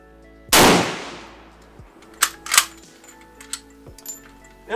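An 8mm Lebel rifle test-fired with reloaded Balle D ammunition gives one loud, sharp gunshot with a long decaying echo, followed by a few quieter metallic clanks and clicks of the action.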